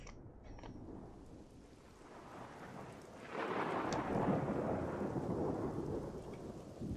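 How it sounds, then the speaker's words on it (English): Thunderstorm weather in the video game Xenoblade Chronicles 2, with steady rain hiss and a low rumble of thunder swelling midway and holding on, fairly quiet overall. "Ooh, thunderstorm already."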